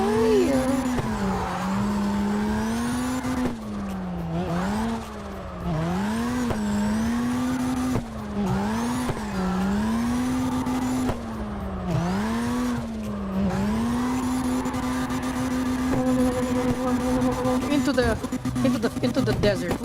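A Mazda RX-7 drifts in CarX Drift Racing, its engine droning and wavering in pitch as it revs up and down through slides, with tire squeal and a voice talking over it throughout.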